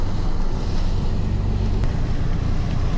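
Hurricane Irma's wind roars steadily in Jacksonville, Florida, a dense, unbroken rush of gusting air and pounding water that stays loud and close for the whole stretch, with no voices.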